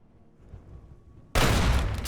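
Gunfire in Fallout 3 with a heavily modded setup: a quiet lull, then a sudden loud blast of shooting that rings on with dense, crackling reverberation.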